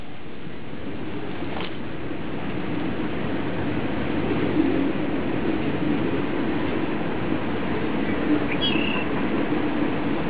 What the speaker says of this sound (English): As you can hear, there's a train nearby.